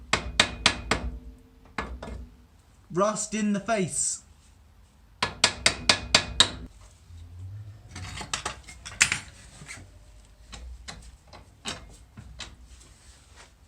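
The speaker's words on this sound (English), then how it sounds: "Might try a little hammer actually." Sharp metallic hammer blows in quick bursts of several strikes, with pauses between them, as a Corsa B front coilover is driven into a Nissan Micra K11's suspension. A short spoken remark comes in the middle.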